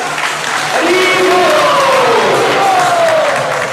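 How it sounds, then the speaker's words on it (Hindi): A large audience at a Balaram Jayanti celebration drama breaks into loud, sustained applause and cheering, with voices shouting over the dense crowd noise. "तो एक बार फिर से जोरदार तालियों के साथ"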